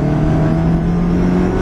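A Ferrari engine at full power, loud and steady, a sustained high-revving drone with a strong engine tone throughout a short burst and no talk over it.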